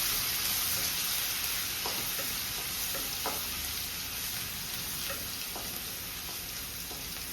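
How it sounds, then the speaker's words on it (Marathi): Garlic frying in hot oil in a home kitchen, a steady close sizzle with occasional soft stirring clicks and scrapes throughout, no voices. "तर आता आपण माझं तेल गरम झालं आहे तर मी याच्यामध्ये लसूण परतून घेते."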